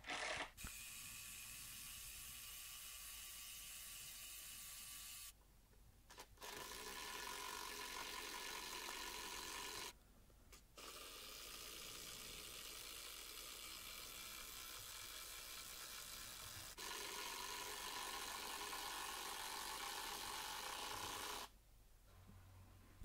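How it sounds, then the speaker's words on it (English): An impact driver drives coach bolts with washers into a wooden sleeper for an outdoor bench seat, in several long rattling, hammering bursts separated by short pauses, loud and close. "I'm going to use the impact driver to drive these down."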